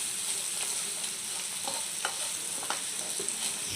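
Okra with turmeric fries in a pan while a spatula stirs it, a soft, continuous sizzle broken by several light scraping taps spread across the stretch, with no talking.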